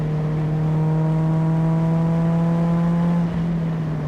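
A Mazda NC Miata's engine drones steadily on a race track, a sustained even engine tone held at high revs for several seconds from inside the car.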